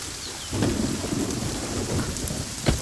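Heavy rain pours steadily on surfaces while thunder rolls in and out, with a sharper crack near the end, the downpour loud and close throughout.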